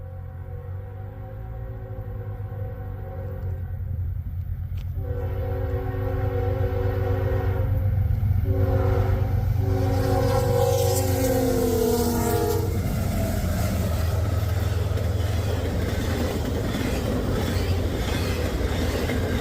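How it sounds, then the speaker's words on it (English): Intermodal freight train approaching and passing at a grade crossing, its horn sounding in long steady blasts over a deep rumbling engine. The horn stops partway through while the loud roll and clatter of the cars continues steadily to the end. "Do have a train coming from back over here, as you can probably see."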